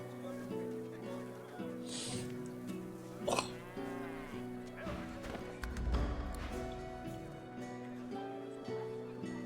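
Cows moo a few times over continuous Divinity: Original Sin 2 game music with layered sustained tones, with a brief sharp tap in the middle.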